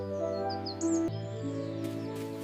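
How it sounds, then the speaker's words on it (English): Small birds chirp in a cool, quiet forest, with light, quick high tweets drifting over a steady low humming background. "It was cool and quiet, except for the cheerful chirping of birds."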